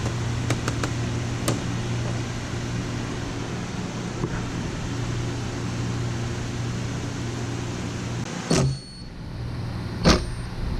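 A rewound Toyota Prius MG1 electric motor, driven by an openinverter controller, spins with a steady electric whine and hum, broken by a few sharp clicks and a brief drop near the end.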